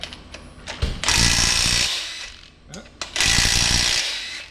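An impact wrench rattles at bolts on a Hemi tow truck in two loud, close bursts of about a second each, separated by a short pause, with some talk nearby.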